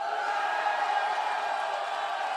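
A live tournament crowd on the right side of the stage cheers and shouts. The noise is a steady, dense roar of many voices heard from a distance, with no single voice standing out.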